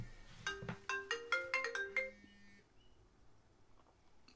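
A telephone ringtone rings during a live apartment talk show, a bright chiming melody of quick descending notes lasting about two seconds before fading into quiet room tone.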